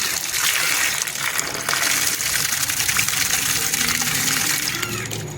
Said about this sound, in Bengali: মাছটা আর ক্যাংড়াটা ধুচ্ছে